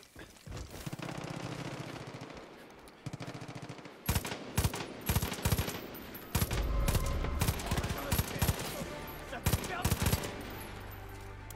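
Gunfire in Far Cry 5, rapid machine-gun bursts and scattered shots crackling loudly and densely after a quieter opening, with game ambience underneath.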